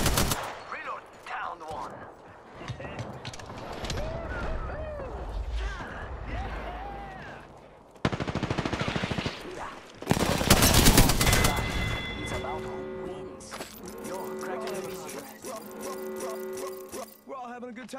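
Video game gunfire in a multiplayer match: bursts of rapid automatic shots and loud single blasts, with crashing impacts and bright electronic tones, mixed under frequent player chatter over voice chat.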